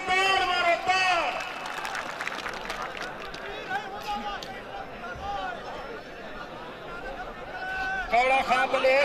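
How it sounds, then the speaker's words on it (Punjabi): A crowd at a Pakistani pehlwani wrestling bout claps and cheers, a broad wash of applause and chatter behind an announcer's voice, swelling loud at the start and end. "ਤਾੜੀਆਂ"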